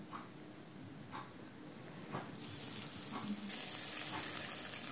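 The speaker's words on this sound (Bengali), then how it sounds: "আমি প্রথমে আলুগুলো ভেজে নেব। দিয়ে দিলাম একটু হলুদ, সামান্য একটু লবণ।" Potato pieces frying in hot oil with turmeric and salt, a soft steady sizzle with occasional stirring taps and scrapes, the hiss growing brighter and fuller halfway through.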